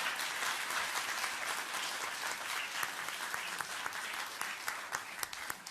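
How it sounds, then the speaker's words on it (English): Applause from the audience at a city council meeting, steady sustained clapping from a room full of people lasting several seconds, with faint voices underneath. "You can clap now."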